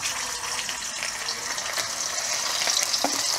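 Galunggong fish frying in cooking oil, giving a steady, close crackling sizzle with a few louder spits toward the end and no talking.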